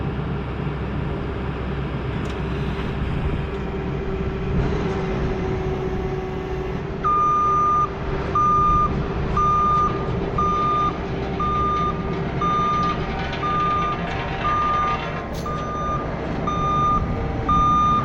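A skid steer backs up while unloading clay pipe, its reversing alarm beeping in a steady repeating pattern over a loud, continuous diesel engine rumble.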